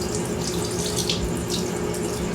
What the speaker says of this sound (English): we are now going to rinse the soap with the running water